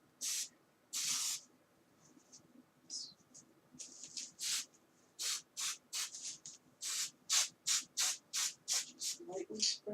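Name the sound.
basting spray sprayed onto fabric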